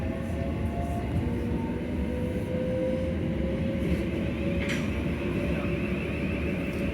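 Steady rumble of a Southeastern train pulling out of Charing Cross, with a Thameslink Brighton to Cambridge service departing alongside; continuous low rolling drone with faint whining tones, no talk.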